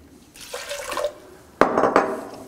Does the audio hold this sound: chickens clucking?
no